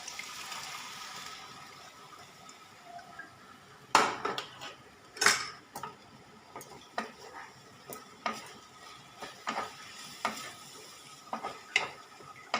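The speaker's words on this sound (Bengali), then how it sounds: "ভালো করে নারকেলের সাথে মিশিয়ে নিচ্ছি।" Thickened milk and coconut being stirred in a pan for coconut sweets, with a spoon scraping and clinking against the metal in irregular strokes, moderately close, over a faint low sizzle and no talk.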